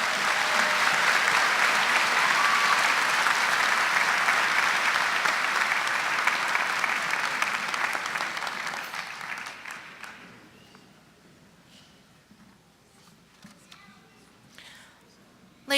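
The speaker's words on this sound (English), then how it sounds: "let's give Senator Teplitz another round of applause for his encouraging words" Graduation commencement audience applause, a loud sustained ovation of many hands clapping for about eight seconds that gradually fades into scattered claps and room quiet.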